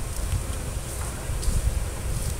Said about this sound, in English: any remaining bees will fly out and will get back in that box